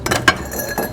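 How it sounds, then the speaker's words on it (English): Ice dropped into a mixing glass for a Creole cocktail of rye whiskey and Benedictine: a quick cluster of bright clinks and rattles, close up, lasting under a second. "Ice to a mixing glass,"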